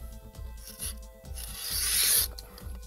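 Steel scissors cutting through a sheet of paper, a series of close, crisp rasping snips with a longer continuous slicing stroke in the middle, no talking.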